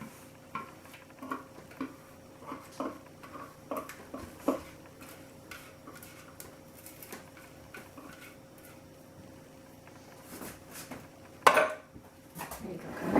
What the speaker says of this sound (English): now we're going to add the liquid pectin to our strawberry mixture and stir it up